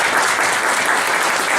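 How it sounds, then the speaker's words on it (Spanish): Audience applause greets a candidate for Ecuador's Assembly at a campaign visit in Stockholm, a dense, steady wash of clapping from a room of people that holds at full strength throughout the short stretch. "Un aplauso para ella."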